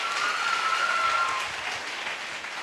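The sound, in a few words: applause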